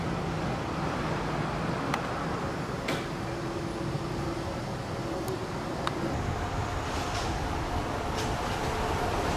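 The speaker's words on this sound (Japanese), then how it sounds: "左側から列車が到着する音が聞こえてるんですけど" Continuous low rumble of a train arriving at Shin-Hakushima underground station, heard through a wall, with occasional sharp clicks and squeals over the steady noise.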